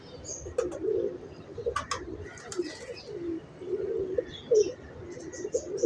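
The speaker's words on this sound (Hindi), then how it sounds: "ये मैर साहब वाले कबूतरों में से हैं।" High-flyer pigeons on a Lahore rooftop coo repeatedly nearby in low, throaty murmurs, with occasional higher chirps mixed in.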